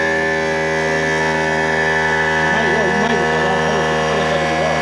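An air compressor runs loudly and steadily, a droning motor hum with a strong tonal whine that does not let up, heard close and alone throughout.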